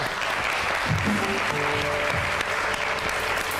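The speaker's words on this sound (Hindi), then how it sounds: "अरे वाह भाई, तालियां।" Audience applause in a studio cooking-show setting, a steady wash of clapping from a crowd lasting the whole stretch, with a brief voice or two faintly underneath.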